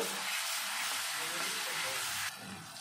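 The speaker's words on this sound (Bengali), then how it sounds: "এটাকে আমি আবার একটু নেড়ে চেড়ে নেব, 2 মিনিট কষিয়ে নেব।" A paste of ground poppy seeds, cashews and raisins sizzles and spatters as it is stir-fried in a hot pan, a dense steady hiss that drops slightly softer toward the end.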